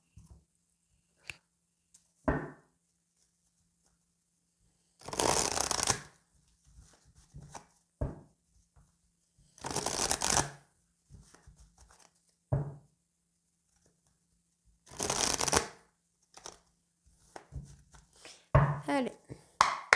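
Oracle cards from a Secrets d'émeraude deck are shuffled in three loud, broadband rustling bursts spaced about five seconds apart, with soft taps and handling noises in between.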